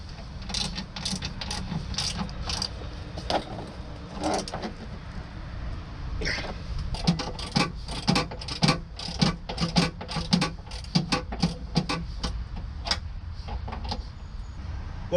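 A hand ratchet clicks in quick bursts while tightening the swivel seat bolts in a Sprinter van, the rapid pawl chatter starting and stopping repeatedly, close and clear with no talking.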